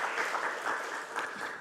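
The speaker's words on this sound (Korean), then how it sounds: "우리 감사와 영광의 박수 올려드리겠습니다." A church congregation claps in thanks and praise during a Friday night prayer service, a dense, steady round of applause that holds evenly for under two seconds, with no voices over it.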